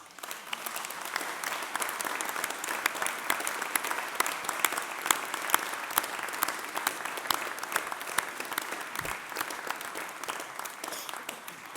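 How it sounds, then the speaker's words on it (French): An audience at a New Year's greetings speech applauds warmly, a dense, sustained clapping of many hands heard from a moderate distance, steady for the whole stretch. "Et je voudrais qu'ensemble nous puissions l'applaudir."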